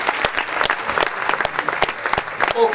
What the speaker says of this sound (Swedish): ordförande Anette Eisenman Wikström, en applåd!